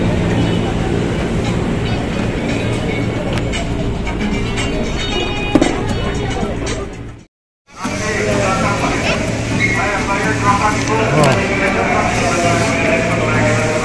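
A crowded KRL commuter line train heading toward Cikarang in the late afternoon rumbles steadily along the rails, loud and continuous inside the carriage, with a brief dropout midway and passengers' voices faintly under the clatter.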